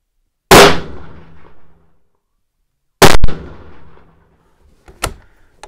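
Two loud, sharp rifle shots from a rifle fitted with a CVLIFE LPVO scope crack out about two and a half seconds apart, each with a decaying echo, followed by a fainter distant crack.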